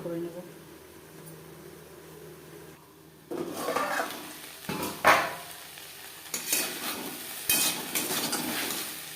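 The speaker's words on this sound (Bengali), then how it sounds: "মিডিয়াম ফ্লেমে এইভাবে ঢাকনা চাপা দিয়ে 3-4 মিনিট রান্না করে নেব" Okra and potato fry in a covered pan over a medium gas flame, a low steady sizzle at first that turns into louder bursts of frying and scraping toward the end, with no talk.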